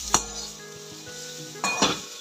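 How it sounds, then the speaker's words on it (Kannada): Grated coconut fries in a pan with a soft sizzle, and two sharp utensil scrapes and clinks come at the start and near the end. "ಈ ಸಮಯದಲ್ಲಿ ನಾನು ತುರಿದಿಟ್ಕೊಂಡಿರೋ ಕೊಬ್ಬರಿನೂ ಹಾಕಿ ಫ್ರೈ ಮಾಡ್ತಾ ಇದ್ದೀನಿ"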